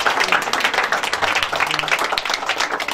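A church congregation at a Sunday service claps loudly and densely, a steady wash of many hands applauding together without pause.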